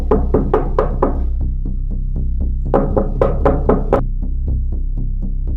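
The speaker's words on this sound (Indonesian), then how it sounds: "mengetuk pintu dengan keras" Loud, rapid knocking on a door in bursts of quick blows, pausing briefly before another hard volley, over a steady low hum, with no talk.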